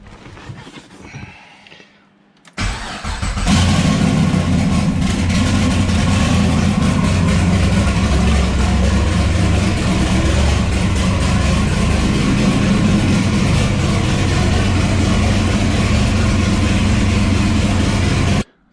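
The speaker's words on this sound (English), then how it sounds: "So I'm gonna start it up and put it in drive" A 2012 turbo Chevy Caprice PPV police car starts up and runs in drive, giving a loud, steady, low engine drone that holds without a break after a short rustling lead-in.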